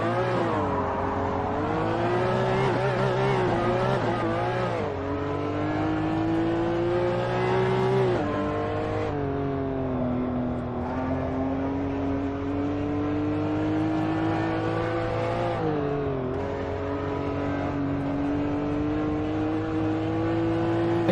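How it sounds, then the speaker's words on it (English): A road-legal race car with downforce in the racing game Assetto Corsa, its engine revving through rising gear pulls with short drops at each shift, loud, close and continuous with no talking. "It's basically a race car for the road, this thing."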